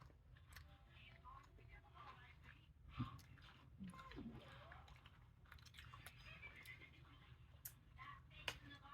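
Someone chews gummy bears close to the microphone, giving soft, wet, squishy mastication with a few small clicks, under faint background murmur.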